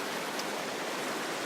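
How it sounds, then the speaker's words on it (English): River rapids in Lane Poole Reserve, a faint, even rush of flowing water with a constant hiss and no breaks, heard alone from a short distance. "I've got sort of the main rapids here in frame."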